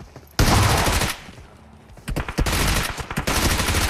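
Rapid bursts of gunfire in PUBG Mobile during a ranked match, loud, close shots in two clusters separated by a brief lull, with a faint voice underneath.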